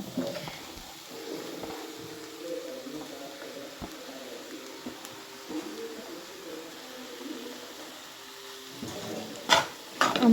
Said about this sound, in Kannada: ಮೊಟ್ಟೆ ಒಂದು ಅರ್ಧ ಭಾಗ ಫ್ರೈ ಆಗಿದೆ ಇವಾಗ ನಾನು ಇದಕ್ಕೆ ಬ್ಲಡ್ನ ಸೇರಿಸ್ಕೊಳ್ತಾ ಇದ್ದೀನಿ